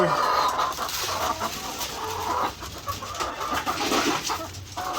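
White Leghorn x Black Australorp laying hens cluck and chatter continuously while being fed feed, a busy, close flock sound that fills the whole clip.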